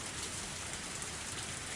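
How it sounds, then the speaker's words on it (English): Heavy rain in the visual novel game Higurashi: a steady, dense hiss of downpour drumming on surfaces, unbroken and even from start to finish, with no voices. "The sound of falling raindrops was fierce, as always."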